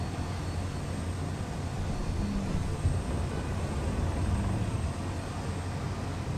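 An aircraft engine in Space Engineers on the planet Agaris throttling up, a steady broad roaring drone holding at a constant level, without talk.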